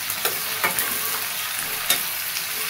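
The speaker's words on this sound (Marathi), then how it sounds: "बारीक कट केलेला कांदा टाकून घेते मी. कांद्याला चांगलं परतून घ्यायचं." Finely chopped onion for biryani fries in a pan with a steady, close hiss, broken by a few light stirring scrapes, and no voices.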